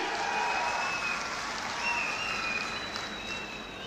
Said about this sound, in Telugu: మీరందరూ కూడా గట్టిగా చప్పట్లు కొట్టి అభినందించండి.